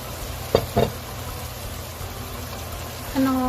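Shrimp and mushrooms sizzle steadily in a pan as oyster sauce and sugar go in. A spatula clacks twice near the start, and a short voiced sound comes near the end.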